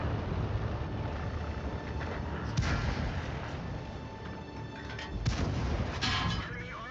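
Tank cannon shots in the World of Tanks video game, heavy booming blasts that land irregularly over a constant rumble of battle noise, with a few louder, sharper hits toward the end.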